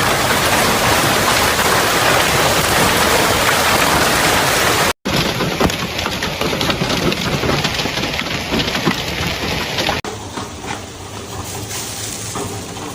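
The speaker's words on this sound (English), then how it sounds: "Oh, jeez, that's some big ass hail." Violent hailstorm in Taft, Texas on the Gulf coast, with large hailstones pounding down as a dense, loud, steady roar that continues unbroken with a brief cut midway.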